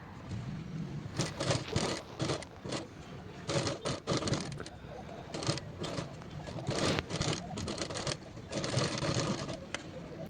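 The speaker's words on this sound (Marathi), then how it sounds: "मी अस्तर हे मेन फॅब्रिकवरती जसं जेवढं आहे तेवढी टीप मारून घेते व्यवस्थित" A sewing machine stitches lining onto the main fabric of a boat-neck padded blouse, running in short, rapid bursts with brief pauses between them, close and clear.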